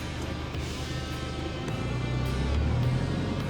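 Nissan Navara pickup engine revving steadily with a low, continuous rumble that swells louder toward the end, heard from close by inside the vehicle.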